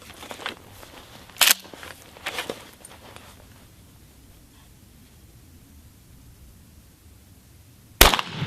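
A defensive shotgun is fired at a target 10 yards away on a range. A sharp report comes early, followed by smaller cracks. After several seconds of quiet background hiss, another loud blast lands near the end. No one speaks.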